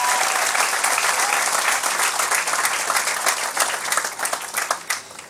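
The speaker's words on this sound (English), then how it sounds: "let me just call for one more brief round of applause in recognition of a job well done" Sustained, dense applause from a large audience at a college commencement ceremony held on June 2, 2007, loud and steady throughout with no talk over it.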